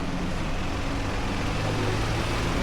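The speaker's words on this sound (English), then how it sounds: "Delivery trucks are out now. There goes Kudo Neko." A Kuroneko (Black Cat) delivery truck passes along a neighborhood street near Nagasaki China Town, its engine a steady low rumble with broad road noise, loud and close for the whole stretch.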